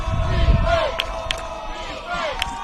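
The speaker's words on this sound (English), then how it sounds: "You can hear the crowd chanting defense." Crowd at a varsity high school football game chanting "defense" from the stands, a rhythmic mass of voices at moderate distance with an announcer's commentary over it.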